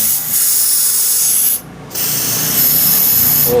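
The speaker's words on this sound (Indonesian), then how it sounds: "kita bisa disemprot nih bagian sini, coba kita semprot" A spray is aimed at a dirty motorcycle fuel pump to clean it, giving a loud, close, continuous hissing rush that breaks off briefly partway through and then resumes.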